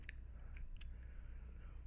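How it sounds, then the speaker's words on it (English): Close, quiet chewing of a chicken wing, with a few sharp crunches as the bone breaks, all packed into a couple of seconds. "Crunch a bone,"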